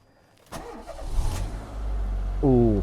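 A Ford Mondeo engine cranks briefly and catches, then settles into a steady, loud low idle close by with a small rev near the end.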